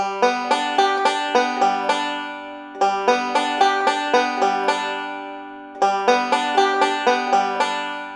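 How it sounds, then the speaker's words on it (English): Banjo picking a steady, fast eight-note Scruggs roll pattern, strings 3-2-1-5-1-2-3-1, played as three repeated phrases with brief pauses between them, close and clear. "It's called an 8-point roll, and it's very common Scruggs roll."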